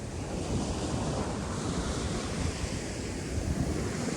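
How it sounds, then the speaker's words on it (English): Ocean surf at Laguna Beach rolls in as a constant, loud, full wash of breaking waves mixed with wind buffeting the microphone, with no voices. "we've already got to experience the ocean"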